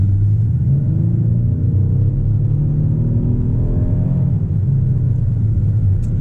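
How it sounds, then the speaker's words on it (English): A 2020 Hyundai Palisade SUV with a 3.8 liter V6 accelerating, heard from inside as a loud, steady low engine rumble with a rising drone and road noise, no talking. "We're gonna get a little acceleration here."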